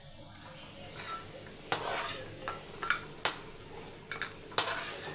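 Roasted cashews and raisins are scooped from a pan onto a plate, giving several sharp metallic clinks and scrapes of a spoon against cookware, spaced irregularly with soft rustling in between.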